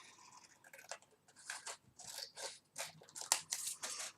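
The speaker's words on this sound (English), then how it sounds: "I'm going to cut out another ticket." Scissors snipping out a paper ticket, a run of short crisp cuts in quick irregular bursts, close and fairly quiet, with no voices.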